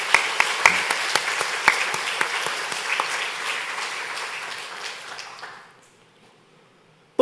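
A church congregation breaks into loud applause that fades out over several seconds, with a few sharp individual claps standing out before falling quiet.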